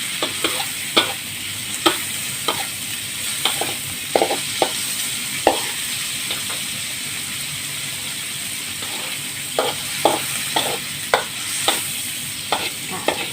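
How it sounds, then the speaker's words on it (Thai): A pan sizzles steadily while a utensil scrapes and taps against it in irregular strokes, close by, as shrimp are stir-fried. "ผัดกุ้งให้สุกก่อนนะคะ"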